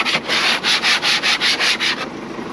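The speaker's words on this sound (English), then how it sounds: "if you don't have an ice scraper, you've got a clipboard, just come out and just start" A clipboard scrapes frost off a frozen surface in about nine quick, even rasping strokes, close and fairly loud, then stops into quiet.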